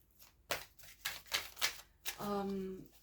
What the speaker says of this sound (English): Let's shuffle this deck to see which areas of your life will be blessed.